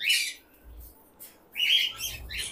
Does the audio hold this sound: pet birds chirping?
yes